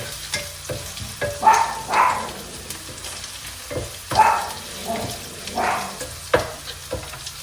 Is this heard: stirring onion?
yes